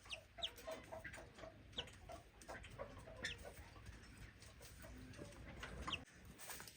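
Chickens clucking and calling inside a large backyard chicken coop, with repeated short clucks and squawks scattered throughout over steady farmyard background noise, fairly close and moderately loud.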